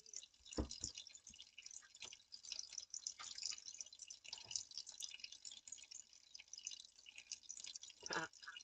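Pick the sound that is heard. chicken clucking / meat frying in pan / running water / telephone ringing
running water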